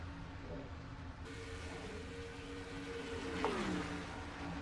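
Stock cars in a racing video game roar down the Brickyard front stretch, a steady engine drone with a faint pitch-shifting pass partway through under ambient race noise.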